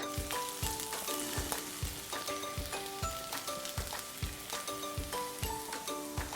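Garlic and finely chopped ginger sauté in hot oil in a wok, a soft continuous sizzle running under a steady beat of background music.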